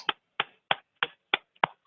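Six sharp, evenly spaced claps or snaps ring out one at a time in a steady rhythm, close and clean against silence.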